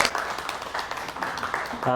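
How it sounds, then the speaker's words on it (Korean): Audience clapping to welcome a lecturer at a CEO academy presentation, a busy patter of hands with voices mixed in underneath. "큰 박수로 환영해 주시기 바랍니다"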